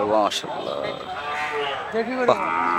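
A cow lets out a couple of drawn-out moos at a busy cattle market in Ranir Hat, Rangunia, Chattogram, ahead of Qurbani, with faint crowd murmur behind.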